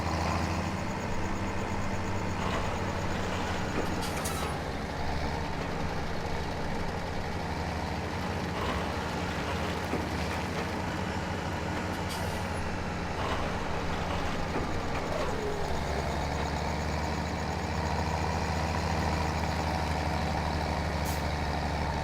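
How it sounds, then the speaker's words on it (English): A tractor engine strains while pulling a load of silage bales uphill in Farming Simulator 17, a steady loud drone with a low rumble and occasional hisses and clanks, no voices. "Feel the tractor struggling a little bit to pull all these bales up this hill"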